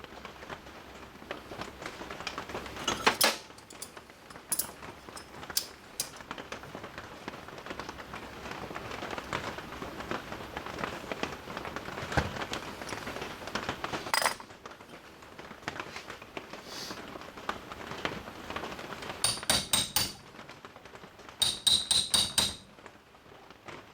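A punch is struck with a hammer to drive the gas tube pin into a Rock River AR15 during rail installation, giving irregular bursts of sharp metallic taps, some in quick clusters, close and clear without talk.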